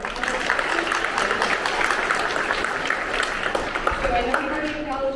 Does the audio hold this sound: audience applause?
yes